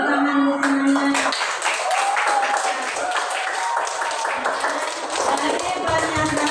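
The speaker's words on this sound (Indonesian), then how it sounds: "Tepuk tangan buat semuanya." A classroom of students claps together, a rapid run of sharp hand claps over a brief voice at the start, close and moderately loud, the clapping continuing in an uneven patter.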